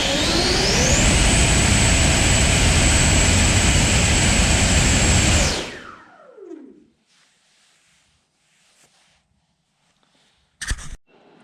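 FMS V2 Platinum 2100kv electric ducted fans on a Freewing F14 Tomcat model jet run at a loud, steady high-pitched whine during thrust testing, then spin down sharply, leaving quiet with a brief clunk near the end.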